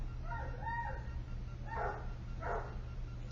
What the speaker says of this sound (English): I've never heard a big dog like that out here